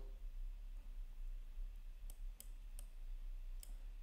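Mouse clicks on a computer, four or five quick, sharp clicks close together in the second half, faint against a quiet, low background hiss.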